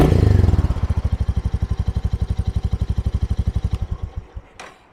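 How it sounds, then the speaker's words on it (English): A 2023 Royal Enfield Meteor 350 motorcycle engine gives a brief rev, then settles into a fast, even, throaty thumping idle close by before cutting off near the end. "I'll give it just a couple little revs for you. It's a very throaty sound out of the 350."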